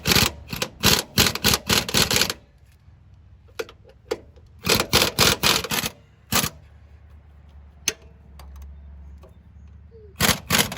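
A 5/8 nut driver tightens the locking nut on a front strut of a 2007-2014 GMC Yukon XL Denali, producing close bursts of rapid ratcheting clicks separated by quiet pauses and a few isolated taps.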